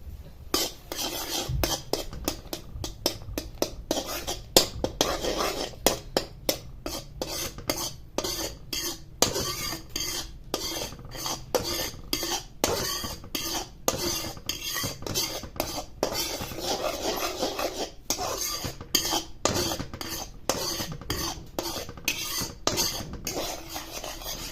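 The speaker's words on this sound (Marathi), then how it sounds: "सारखं स्टर करत राहायचे, जेणेकरून हे आटलं जाईल दूध आणि आपला खवा तयार होईल." A spoon steadily stirring and scraping a milk-powder mixture in a metal pan as khoa thickens for carrot halwa, a continuous rhythmic clinking and scraping at close range.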